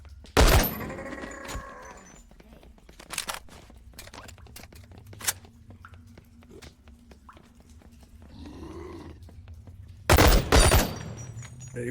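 Gunfire as locks are shot off in the VR game Boneworks: loud, sharp bursts of shots near the start and again toward the end, with scattered lighter impacts and clatter between them.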